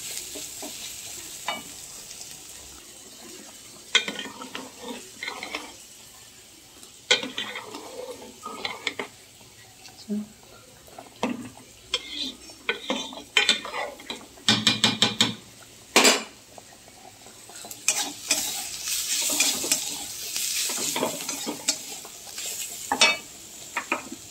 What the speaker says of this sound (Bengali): দেখো পেঁয়াজটা ভাজা ভাজা হচ্ছে আর এর মধ্যে আদাটা দিয়ে দেবো